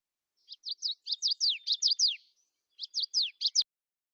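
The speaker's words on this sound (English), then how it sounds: "This is a warbler." A warbler sings two quick phrases of sharp, high chirps, about ten notes and then five after a short pause. The song is clear and isolated against silence.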